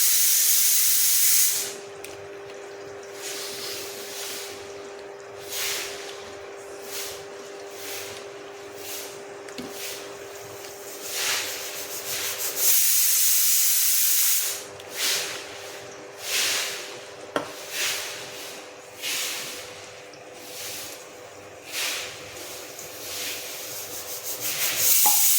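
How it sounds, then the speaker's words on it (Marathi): Soaked tamarind being squeezed and kneaded by hand to press out juice for sambar, heard as repeated wet, squelching rubs in an uneven rhythm, close and fairly quiet with short pauses between. "इमलीचा रस काढून झालेला आहे छान."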